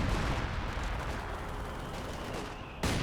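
Artillery barrage in Company of Heroes 2, a dense continuous roar of distant shelling and gunfire with no clear single blasts, steady and loud for the whole stretch, then a sudden louder burst at the end.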